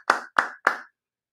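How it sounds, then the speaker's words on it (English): Three crisp, evenly spaced claps ring out as applause for Mary during a slot car livestream, then there is silence. "Everyone give Mary a round of applause."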